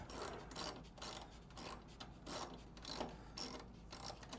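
A socket wrench ratchets during assembly of a lever espresso machine, rapid close clicking in short repeated strokes at about two-thirds-second intervals, fairly quiet.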